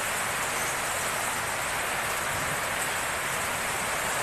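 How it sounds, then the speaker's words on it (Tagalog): Heavy rain pours down steadily in the Philippines, a dense, even hiss of falling water that fills the space without pause and sounds close and loud, with no voices over it. "Kasi ang lakas talaga ng ulan guys, oh."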